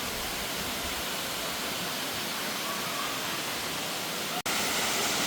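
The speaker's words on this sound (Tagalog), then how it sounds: "Dito na kami sa pang-anim na falls." Waterfall rushing at the sixth falls of Kanching Waterfall, a steady loud broadband roar that fills the whole clip, with one sharp click near the end.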